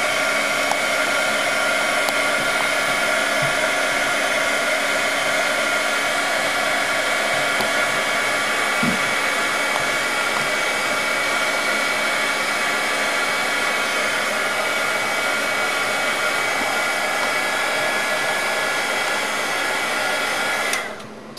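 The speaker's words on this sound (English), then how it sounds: "melt the plastic, because this heat gun obviously is very hot" Heat gun blowing continuously to melt embossing powder, a loud steady whooshing roar close to the listener that cuts off abruptly at the very end, with no talking.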